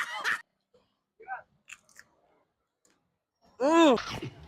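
Crisp crackles and crunching bites from someone eating roast pig skin (litson), a few brief crunches close to the mic, followed by a voice speaking.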